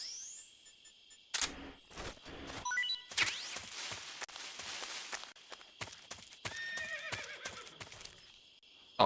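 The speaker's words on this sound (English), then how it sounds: "A horse?" A horse neighs and whinnies in the Metal Gear Solid 3: Snake Eater video game, mixed with clip-clop hooves and sharp camera-shutter clicks in a busy, uneven sequence.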